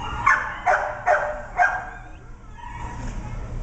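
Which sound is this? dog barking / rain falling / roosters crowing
dog barking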